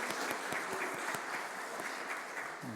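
Congregation applauding in a church during a 50th-anniversary founding Sunday worship service, a steady wash of many hands with a few sharper individual claps standing out, sustained and fairly close throughout.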